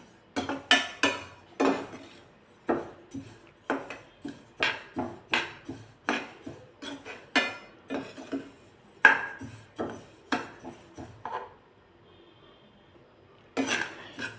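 Sesame seeds dry-roasting in a pan for sesame laddu, heard as a steady run of close spatula scrapes and light clinks against the pan, repeating every second or so with a short pause near the end.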